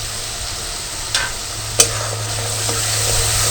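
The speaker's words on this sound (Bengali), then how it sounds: "মশলাটাকে ভালো করে একটু কষিয়ে নেব" Spices with Kashmiri chilli powder sautéing in a pan, a steady close sizzle with a couple of sharp scraping stirs of the spoon against the pan.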